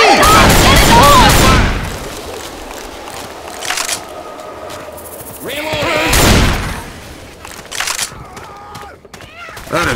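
Bursts of automatic machine gun fire in the zombie shooter Left 4 Dead 2, loud and close, with a long volley at the start and a shorter one a few seconds later over game ambience.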